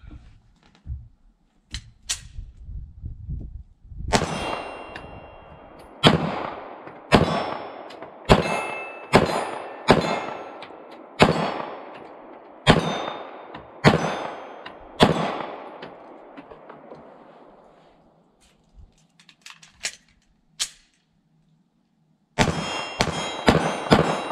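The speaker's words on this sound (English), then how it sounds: "We'll take some shots with the 5906." Shots from a Smith & Wesson 5906 pistol fired at steel plates about 15 yards away: a series of sharp reports, each followed by a ringing clang, spaced roughly a second or two apart, with a short pause before a final quick cluster.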